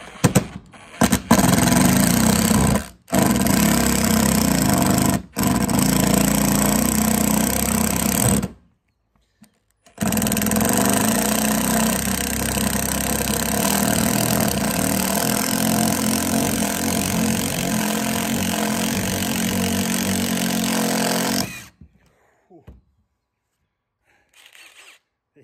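A DeWalt impact drill drives a screw with loud, continuous buzzing and hammering in two long bursts, about eight and twelve seconds each, separated by a short pause and followed by near silence.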